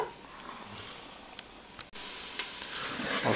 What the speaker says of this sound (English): We saute these so they're translucent.